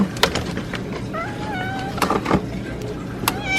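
Several short meows from cats begging for food rise and fall over background clatter and a voice nearby, with sharp knocks scattered throughout.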